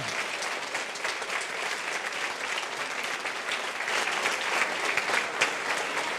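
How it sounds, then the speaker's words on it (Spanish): Warm audience applause for a speaker being welcomed at an industrial relations conference, a dense, steady wash of many hands clapping throughout without a break. "Recibamos entonces como un fuerte aplauso al doctor Ender Carrasquero."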